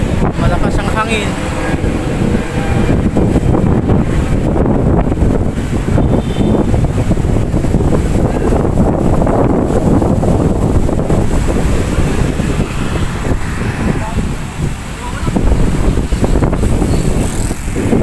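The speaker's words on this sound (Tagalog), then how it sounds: "Malakas ang hangin." Strong wind buffets the microphone along the Mall of Asia baywalk, a continuous loud roaring rumble that persists throughout while someone talks over it.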